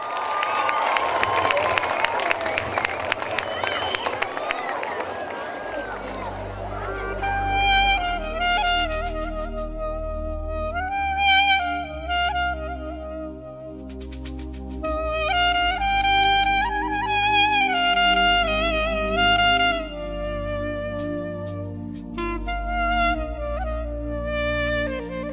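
A crowd at an evening concert cheers and applauds loudly for a singer for about six seconds. Then music swells in and carries on, with the crowd noise fading beneath it.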